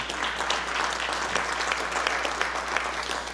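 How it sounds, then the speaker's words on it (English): Applause fills the Virginia House of Delegates chamber, a dense, steady round of clapping from many legislators over a low constant room hum. "That's worth clapping for."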